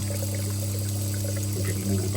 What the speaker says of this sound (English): we're getting water back through.